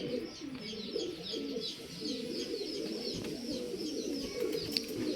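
Pigeons coo steadily in a loft, with a continuous chorus of overlapping low, throaty coos and a few faint higher chirps.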